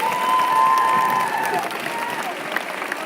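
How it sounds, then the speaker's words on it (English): An audience at a school assembly about a solar eclipse applauds a museum astronomy educator, broad clapping with a little cheering that fades slightly, while a steady electronic tone hums underneath early on. "Give her a big round of applause."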